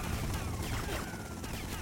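Gunfire in the video game GTA Vice City Stories during a helicopter fight: a dense, noisy spread of shots and impacts with a few sharper cracks, steady and moderately loud throughout.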